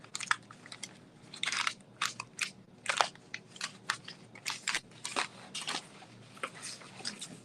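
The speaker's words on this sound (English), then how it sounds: "This is just a paper bag." A paper bag is handled and folded, giving close, irregular crinkly crunches and rustles in quick bursts, fairly quiet, with no talk.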